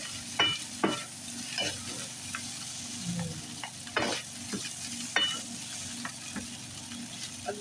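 Chicken fried rice with vegetables sizzles in a hot pan, while a utensil stirs and scrapes through it in repeated sharp strokes over a steady frying hiss.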